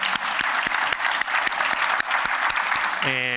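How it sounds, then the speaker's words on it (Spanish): Steady audience applause at a documentary screening in Gran Canaria, with individual claps standing out in a regular patter before a voice briefly begins speaking at the end. "vamos a dar un aplauso a Waldo."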